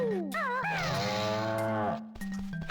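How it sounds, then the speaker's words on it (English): A cartoonish cow moos in the video game Banjo-Tooie, a single drawn-out, bending low call heard clearly and alone, followed by faint game sounds. "I heard a moo"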